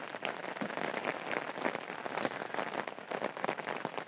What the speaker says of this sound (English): This rain's just getting heavier and heavier.